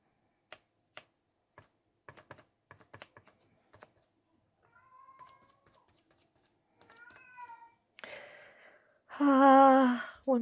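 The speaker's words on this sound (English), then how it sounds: "One of my kitties is unhappy." An unhappy pet cat meows near the end, loud drawn-out cries rising after quieter faint calls, preceded by sparse clicks and taps in a quiet room.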